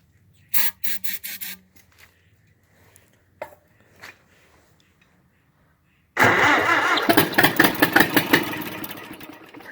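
A Minneapolis Moline Z tractor engine under restoration cranks in a few short bursts and then catches, settling into a loud, close, uneven running chug with irregular firing pulses.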